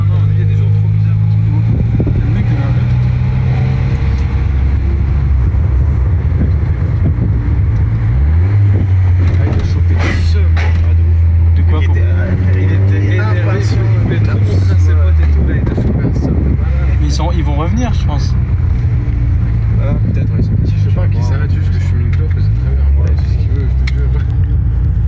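A 520-horsepower Ford Mustang drives around nearby, its low engine drone rising and falling over roughly 25 seconds, loud and close, with wind buffeting and people chatting over it.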